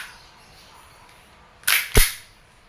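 E&C Glock 17 Gen 5 airsoft pistol test fired, two sharp close snapping shots about a third of a second apart after near silence.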